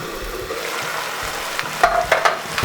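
Stir-fried chicken noodles sizzling in a covered pan, a steady close frying hiss with faint scattered pops and a few light clinks toward the end.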